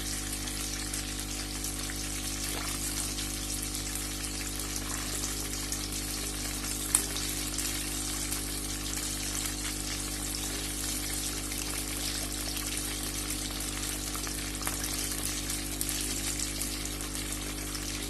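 Crispy dhaba-style fish seasoned with ajwain fries in oil, a loud, even, continuous sizzle that holds steady throughout with no pauses.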